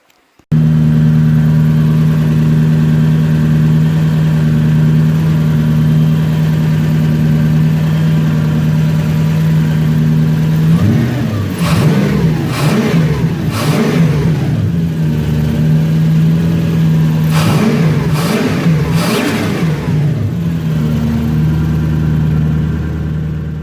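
A Toyota 1UZ V8 in a Soarer SC400 idles with a steady, loud, close hum, then is revved in two clusters of quick throttle blips, each rising and falling sharply before it settles back to idle.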